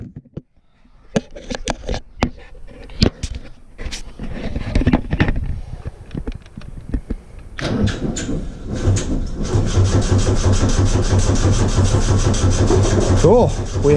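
Ecotec engine swapped into a VW Bug, cranking in irregular bursts with clicks and shuffling before catching at the end of the clip and settling into a loud, steady close idle.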